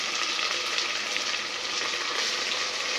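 Vegetables for pav bhaji frying in a pan, a steady dense sizzle that stays even and fairly close throughout, with no voices.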